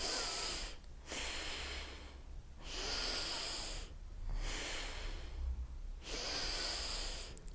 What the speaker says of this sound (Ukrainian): Вдихайте, вдих.